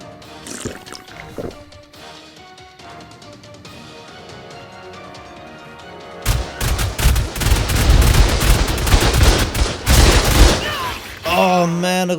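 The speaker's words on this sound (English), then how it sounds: "There's a lot more turret shooting than I thought." Automated turret fire in ARK, starting as scattered distant crackles and swelling into dense, loud, rapid volleys of gunfire with heavy booms toward the end.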